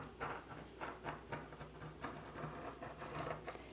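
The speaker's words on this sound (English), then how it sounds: "I'm just going to press through with my wheel along the sew lines." A tracing wheel pressed and rolled along the sewing lines of a fabric pattern for a sloper, giving a soft, faint, rhythmic series of clicking pulses with no voices.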